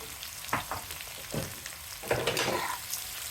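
Pieces of boiled jackfruit seed sizzle and crackle in a frying pan, with bursts of frying noise swelling and fading over a few seconds as they are stirred, close and fairly loud, no talking.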